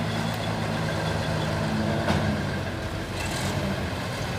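A truck engine idles steadily at a soya unloading port, its continuous low rumble even and moderately loud, with a faint brief beep partway through and no speech.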